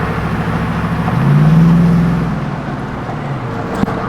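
Chevrolet Silverado with a new crate engine driving, a steady engine drone with a brief rise in revs near the middle, heard from inside the cab with no talk.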